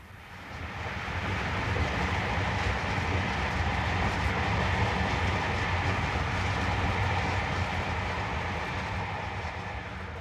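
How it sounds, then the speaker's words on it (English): A passenger train rolls along the rails with a steady, loud rumbling roar and a faint rhythmic clatter that holds for about ten seconds, with no talking. "On the crowded train"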